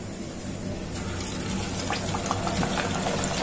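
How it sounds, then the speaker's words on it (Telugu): Puri frying in hot oil for homemade panipuri, heard as a steady close sizzle and bubbling hiss with faint crackles throughout. "ఇప్పుడు ఒక్కొక్క దాన్ని తీసుకుంటూ మనం ఫ్రై చేసుకోవడమే"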